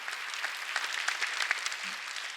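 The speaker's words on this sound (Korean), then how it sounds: "박수." Congregation at a Korean church Sunday worship service claps in a steady, continuous patter of applause, moderately loud and without talk.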